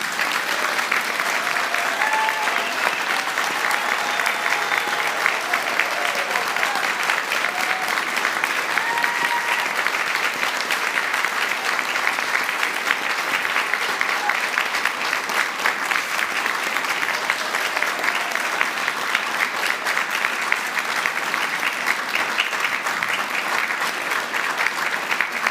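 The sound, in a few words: audience applause for graduates at degree ceremony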